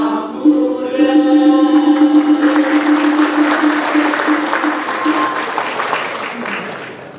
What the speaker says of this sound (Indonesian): tepuk tangan dulu dong buat Buleleng